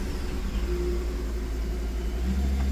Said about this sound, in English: That's all the throttle I can give it.